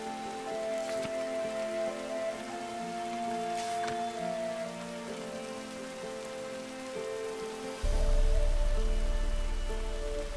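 Rain falls steadily and softly, then grows noticeably heavier and louder near the end, with no talking.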